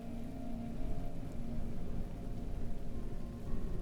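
Steady rain falling in the survival game Souls of the Desert, a constant even patter of rain on surfaces at moderate level, with no voices.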